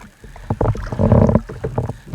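A paddle dipping and pulling through the water as a small boat comes up beside a 32-foot Gulf 32 sailboat, a few close splashy strokes with wind noise on the microphone.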